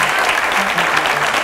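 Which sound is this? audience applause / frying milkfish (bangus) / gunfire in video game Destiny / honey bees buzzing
audience applause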